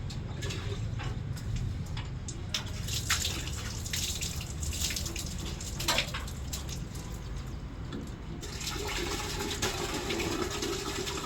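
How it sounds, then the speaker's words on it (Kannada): Water flows through a solar water heater pipe connection, a steady trickling and splashing stream with occasional drips and clicks, fairly quiet and continuous, no talk. "ಕನೆಕ್ಷನ್ ಕೊಟ್ಬಿಟ್ಟು ನೀರು ಹೋಗ್ತಾ ಇದೆ"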